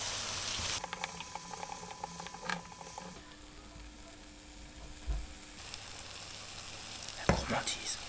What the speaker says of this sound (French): je vais continuer de remuer, de bien mettre le miel au fond là, de le mélanger de partout